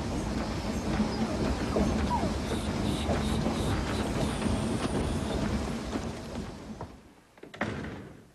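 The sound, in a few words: train interior while riding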